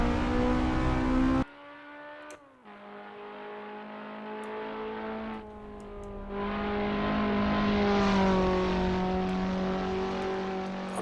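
A Toyota Sera TRD in Assetto Corsa at Pikes Peak, engine howling through gear changes, the tone dropping at each shift then climbing steadily again, loud and close with no talk.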